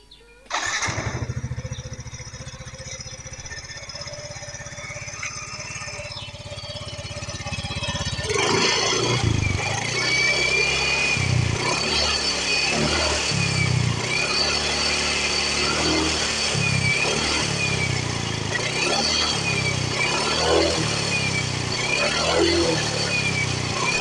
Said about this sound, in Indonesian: Sekarang kita coba dengarkan suara mesinnya.